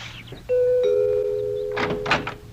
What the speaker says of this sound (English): I'm about to ring my first bell, though.